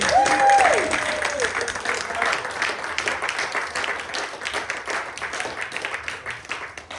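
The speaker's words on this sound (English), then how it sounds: "One last round of applause, please" Audience applause after a storytelling performance at a community centre anniversary event, a steady, dense round of clapping that stays loud throughout before easing slightly, with a brief voice near the start.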